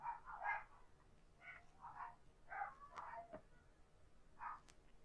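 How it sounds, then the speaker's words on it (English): Several dogs bark at home in short, separate bursts, a few yips and barks spread irregularly, fairly distant and faint against a quiet room. "And of course the dogs start up."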